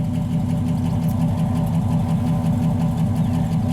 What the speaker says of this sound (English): Ticking, cylinder number 6 misfire